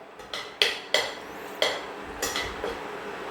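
Raisins frying in hot ghee while being stirred in a metal pan for Kerala kinnathappam. A spoon scrapes and clinks against the pan in several sharp strokes over a faint, steady sizzle.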